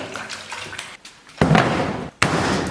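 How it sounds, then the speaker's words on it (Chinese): Running water pours over beef steaks being washed in a kitchen, starting as a softer trickle with a brief pause, then surging into louder splashing bursts after another short break. "接下来咱把牛排给它好好洗一下。"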